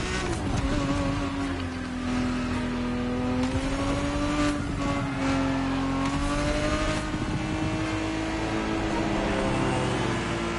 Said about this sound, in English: GTB4 is the perfect vehicle for you to experience Ferrari racing as it felt back in the 70s